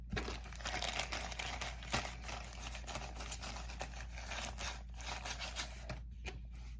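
Thin plastic packaging crinkles and rustles steadily as fly-tying material is tucked back into it for storage, a close, continuous papery crackle with small bursts throughout and no voices.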